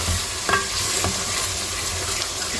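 Spoon stirring salted beef paya curry in a pot, a few soft scrapes and clinks over a low sizzle, close and alone.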